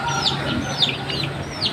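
Fighting cocks cluck in short bursts at moderate distance, with steady background noise and a few higher chirpy calls mixed in.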